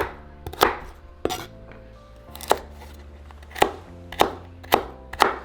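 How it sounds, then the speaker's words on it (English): A knife chops baby carrots into small cubes on a board, giving about eight sharp, close knocks in an uneven rhythm with short pauses between strokes. "for my baby carrot, I'm just going to cut it in half and then cut it in small little cubes"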